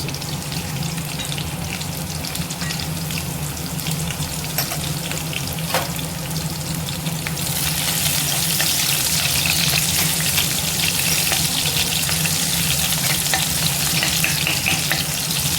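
Green chilli, garlic and ginger frying in oil for cauliflower fried rice, a steady, dense, close sizzle that grows louder and brighter about halfway through, with no talking.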